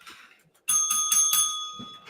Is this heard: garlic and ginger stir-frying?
no